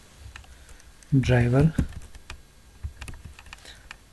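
Computer keyboard keys click in scattered taps while Python code is typed, close and crisp, with a short burst of speech partway through.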